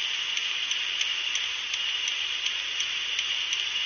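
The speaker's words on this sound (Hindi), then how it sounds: "धीमी धीमी बारिश हो रही है" Light rain falls in a truck simulator video game, a steady, even hiss of drops with faint regular ticks and no talking.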